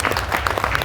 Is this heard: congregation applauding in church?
yes